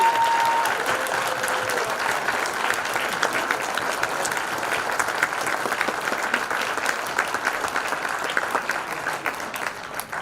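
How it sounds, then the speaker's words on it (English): Audience at a synagogue's annual gala applauding honored guests, sustained dense clapping from a large crowd in a hall, steady for about ten seconds and slowly thinning toward the end. "So if I can ask them to stand up so we can give them applause for them."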